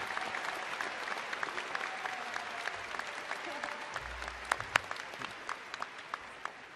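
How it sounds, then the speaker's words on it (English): A commencement ceremony audience at the Clark School gives a round of applause, with many separate hand claps crackling over a steady murmur and a few sharper, louder claps standing out toward the end. "Let's give them a round of applause."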